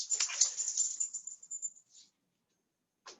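A dog waking up indoors, giving a short run of high, thin whimpers and whines close by, followed by silence and one final brief whimper.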